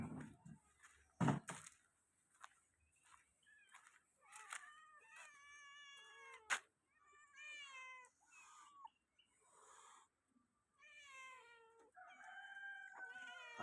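A cat meows in a run of repeated, drawn-out calls while being given fish, with a few sharp knocks and thumps in between. The scene is quiet otherwise.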